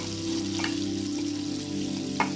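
Onion goes into a hot frying pan with a steady, close sizzle throughout, with a couple of brief clinks or stirring touches and no talking.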